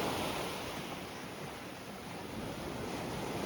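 Atlantic Ocean waves wash onto the sand at Playa Nanín beach in Sanxenxo, Pontevedra, a steady, broad roar of surf with gentle swells in loudness and some wind.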